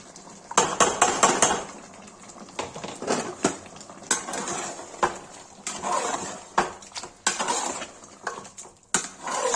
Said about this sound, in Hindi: गाइस अब टमाटर डाल देंगे।